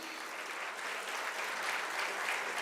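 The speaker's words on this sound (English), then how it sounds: "Give them a big round of applause, energy." Steady applause from an audience at a college International Women's Day celebration, a dense wash of clapping that holds fairly even and moderately loud throughout, with no talking over it.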